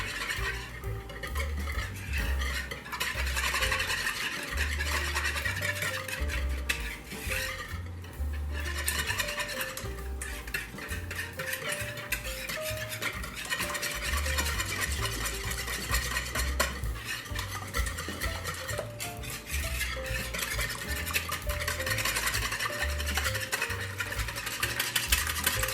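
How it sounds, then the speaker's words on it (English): Eggs, milk and spices being whisked in a bowl for French toast, a steady, continuous scraping and clinking of a utensil against the bowl that runs without pause throughout. "I'm mixing my eggs and milk and"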